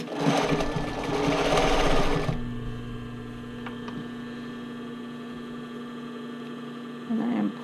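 Sewing machine running a zigzag stitch along a criss-cross sports bra waistband, a close, fast mechanical whirr lasting about two seconds, then low hum and a brief second burst near the end.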